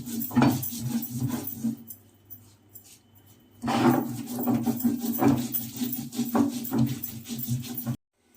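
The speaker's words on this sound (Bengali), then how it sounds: "আমি মশলাটা বাটি আমি বেটে আবার দেখাচ্ছি" Spice paste is ground on a sil-bata grinding stone for a Bengali prawn dish, with rhythmic scraping and knocking strokes in uneven bursts, a short pause, then more grinding before it stops.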